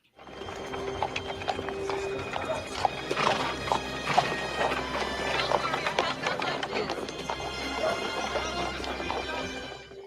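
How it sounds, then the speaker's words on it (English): A horse-drawn carriage rolls along a cobbled street outside a firehouse, hooves clip-clopping steadily with wheel rattle and a brief whinny, busy and close, filling the whole stretch under faint background voices. "A horse-drawn carriage goes by."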